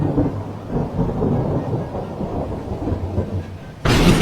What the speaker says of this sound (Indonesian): lagi enak-enak tidur saat hujan tiba-tiba kaget petir